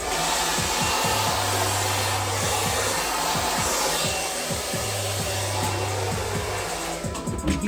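Electric hair clippers buzz steadily and close throughout a burst fade haircut, a continuous motor whine with some handling clatter, with no talking.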